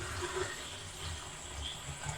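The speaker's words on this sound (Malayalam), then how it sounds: "അപ്പോൾ നമുക്ക് വെള്ളം ഒഴിച്ച് കൊടുക്കാം." Water pours into an old paint bucket repurposed as a self-watering indoor coir planter, making a steady, continuous splashing fill that runs alone without talk.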